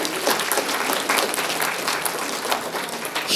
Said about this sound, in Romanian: Hai să-l aplaudăm și pe Bogdana Petri.